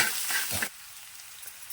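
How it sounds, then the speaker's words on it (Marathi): Onions sizzle and crackle in a hot iron pan, loud at first, then the frying drops to a quieter, steady hiss. "कांदा लोखंडाचा तवा म्हणजे ना की कांदा लगेच करपला जातो हे चांगलं परतून घेते"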